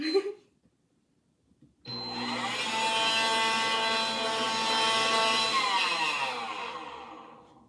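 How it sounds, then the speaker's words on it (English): A stand mixer starts up after a moment of quiet and runs steadily for several seconds, a loud, even motor whir with a mechanical hum, while it briefly combines pretzel dough ingredients and then begins to wind down. "you can start your mixer for just a second to kind of combine it a little bit"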